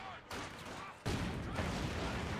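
A rifle grenade blasts in a Company of Heroes battle, a sudden loud burst that jumps up and then sustains as a dense roar of gunfire and explosion noise in the game's combat.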